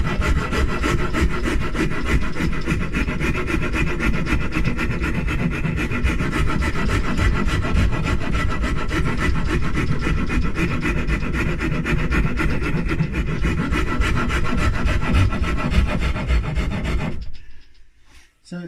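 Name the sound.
metal file shaping a painted guitar body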